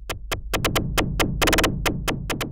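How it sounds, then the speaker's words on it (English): FM percussion from a Eurorack modular system, shaped by a low-pass gate into a rapid sequence of short, punchy hits with quick decays, some spaced apart and others in fast clusters, playing alone and fairly loud. "But shaping it with low-pass gate sounds like this."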